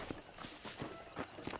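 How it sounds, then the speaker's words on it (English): Horse hooves clip-clop at an even trot as a horse is ridden in the video game Red Dead Redemption. The quick, light beats are moderately close, with no talking. "let's see if you can still ride a horse"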